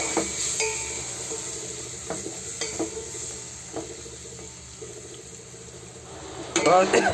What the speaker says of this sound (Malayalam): ഉണങ്ങിയ മാങ്ങ എടുത്തിട്ട് ഇതിലേക്കാണ് ഇടുക. എന്നിട്ട് നമ്മൾ ഇതൊന്നും ഇങ്ങനെ ഇളക്കുക.